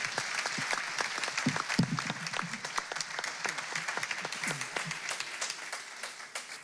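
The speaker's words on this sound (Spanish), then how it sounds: "yo creo que se ha merecido un aplauso a nuestros compañeros" Moderate applause from a conference audience at a business event on healthy companies, individual claps distinct within a fairly quiet, even patter that tapers off toward the close.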